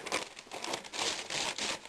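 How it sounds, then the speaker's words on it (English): Cardboard is crumpled by hand while packing material during an RV hot water tank anode replacement, making close, faint crinkling bursts in quick succession for about two seconds. "take some cardboard, crumple it up"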